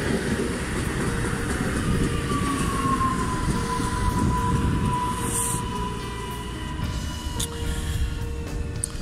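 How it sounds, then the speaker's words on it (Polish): The TLK Uznam passenger train on the Warsaw Wschodnia–Świnoujście route rolls into a station with a steady rumble of wheels and a long, thin brake squeal, continuous and fairly close. "jak dobrze widzę, wjeżdża pociąg TLK Uznam relacji Warszawa Wschodnia Świnoujście"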